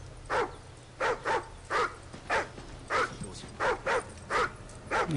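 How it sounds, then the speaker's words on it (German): A dog in the video game Call of Duty: Ghosts barks in a quick series of about a dozen sharp, evenly spaced barks over a low, steady background hum. "Er bellt für drei Hunde."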